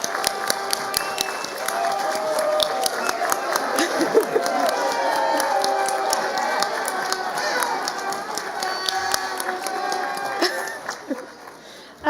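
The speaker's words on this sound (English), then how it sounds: "Let's give them one more round of applause." A New Year's Eve party crowd applauds after a live band's set, a dense wash of clapping and some cheering that carries on steadily, then thins and fades near the end.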